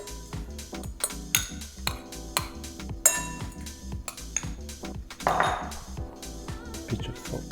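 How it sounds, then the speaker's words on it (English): Metal utensils clink and scrape against a bowl while tossing quinoa salad with balsamic vinegar, a steady series of close, bright taps and clatters with no talking. "So we toss it with the balsamic vinegar."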